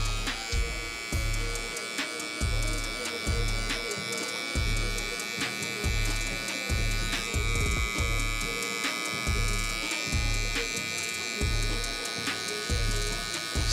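An electric hair clipper buzzes steadily while cutting a high taper fade, with rhythmic passes and light comb strokes close by. No one speaks.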